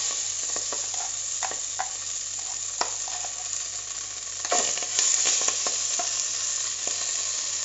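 Ground jackfruit seed paste sizzles steadily in hot ghee, a continuous bright frying hiss broken by scattered spoon scrapes and stirring knocks, with a louder burst of crackle about midway.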